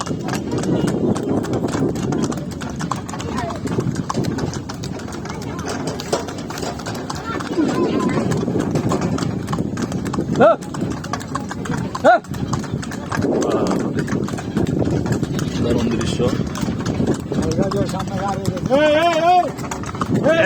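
A horse-drawn tomtom carriage rolls through a village, its hooves clip-clopping in a steady rhythm close by while people talk throughout and a short whinny-like call sounds near the end.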